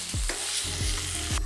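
A spoon scrapes through egg biryani masala in a hot pan, four quick stirring strokes over a continuous close sizzle, with no voices.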